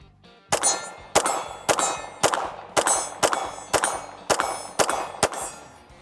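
A Walther PDP pistol fires about ten evenly paced shots, each one ringing a steel target with a sharp metallic clang that decays briefly before the next hit.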